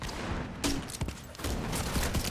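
A grenade launcher fires in a video game, a sudden burst followed by a rapid string of loud sharp blasts and crackling impacts layered over constant game noise.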